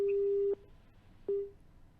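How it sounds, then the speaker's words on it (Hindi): A telephone busy tone sounds after a disconnected call during a televised debate: two steady electronic beeps, the first half a second long, then a pause and a second beep fading out, faint background beneath. "फोन डिस्कनेक्ट हुआ है"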